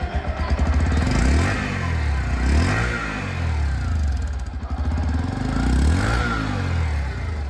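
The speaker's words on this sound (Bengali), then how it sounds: "এবার বাইকের এক্সস্ট নোট চেক করা যাক।" A Bajaj Platina H-gear 110 commuter motorcycle's exhaust sounds up close as the engine is revved in repeated swells, each rise and fall of the throttle clearly audible over a steady putter.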